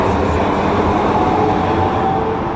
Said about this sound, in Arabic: اكيد هركب المترو ده